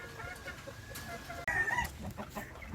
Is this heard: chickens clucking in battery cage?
yes